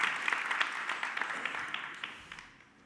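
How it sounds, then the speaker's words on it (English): Audience applause for a panel at a Toronto architecture and emissions talk, moderate clapping from a modest crowd heard from some distance, tapering off over about three seconds. "One final clap for this amazing panel."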